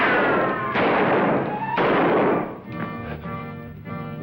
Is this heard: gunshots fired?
yes